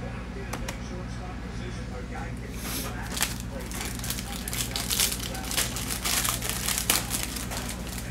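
Foil crinkles and tears as a Panini Chronicles baseball card pack is ripped open up close, the crackling growing busier toward the end over a steady low background hum.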